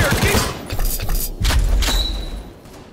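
Gunfire volley in a World War battle game, loud close bursts of shots and heavy thuds in quick succession, with a shouted voice mixed in.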